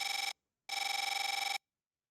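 A telephone rings in the video game SG Mod Volcaldera Nights with a bright electronic trilling bell, one short burst cut off and then a longer full ring, loud and clear with no voices over it.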